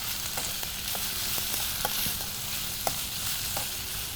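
Onions and spices sautéing in a pan, a soft continuous sizzle with occasional light taps and scrapes of a stirring spoon, fairly quiet and close, with no talking.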